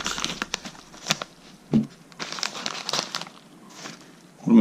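A bag of gold paydirt being cut open, with crinkly plastic rustles and crackles, a few sharp snips or crunches, and a louder crumple at the end, heard close up.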